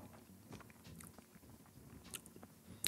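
Close, faint chewing and biting of a squash casserole made with saltines, onions and bacon, soft wet crunches repeating steadily over a quiet room hum.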